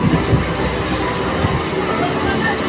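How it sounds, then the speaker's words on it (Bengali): A Sealdah local train rumbles past close by with a steady rolling clatter of wheels on rails, loud and continuous throughout. "এদিকে দেখো লোকাল ট্রেন আমাদের ট্রেনকে টেক্কা দিয়ে আগে চলে গেল"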